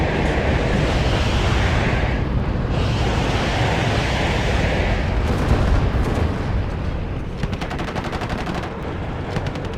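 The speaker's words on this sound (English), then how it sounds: "Russian T-55 is firing at us" A Russian T-55 tank fires amid a sustained roar of battle in the Cold War strategy game WARNO, with constant heavy gunfire and rapid machine-gun bursts layered over a dense rumbling wash.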